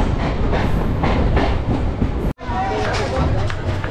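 A local train at Naihati junction rolling along with steady clickety-clack of wheels over rail joints and a loud rumbling carriage interior, with people talking over it.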